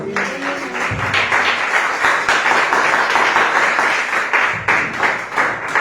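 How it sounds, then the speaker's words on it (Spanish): Congregation clapping during a Spanish-language church service, a dense wash of hand claps filling the space throughout, fairly loud and sustained with some low murmur underneath. "Un aplauso a Dios, hermano."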